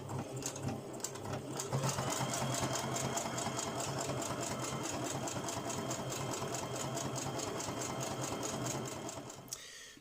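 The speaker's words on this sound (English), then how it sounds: "So I start by doing that on the sewing machine." A sewing machine runs steadily for nearly ten seconds, stitching the seams at each end of a fabric pocket for a DIY bushcraft housewife sewing kit, with a rapid, even mechanical whirr that stops abruptly at the end.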